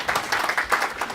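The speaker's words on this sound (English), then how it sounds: "So quick round of applause for Susan, please." Short burst of audience clapping at a sales leadership panel event, a quick round of applause for a presenter, steady and moderately loud with little talk.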